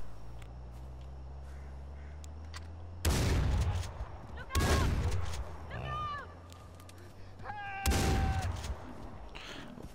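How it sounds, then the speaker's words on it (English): A video game shotgun fires three times, each a sharp booming blast with a short ringing tail, spaced about two seconds apart over a quiet low background hum. "Three shots with the shotgun's not bad."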